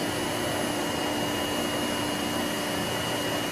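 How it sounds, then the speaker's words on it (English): A vacuum pump pumping down a sealed vacuum chamber fills the room with a loud, steady broadband whir and hum, constant throughout, with a faint high whine on top. "There's a vacuum pump that pumps down this vacuum chamber."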